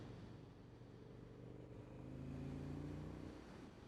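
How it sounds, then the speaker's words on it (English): V-twin motorcycle engine running while riding, a faint low steady rumble that rises and falls slightly with throttle, with wind noise and no talk. "Oh, you cannot beat the sound of that V-twin."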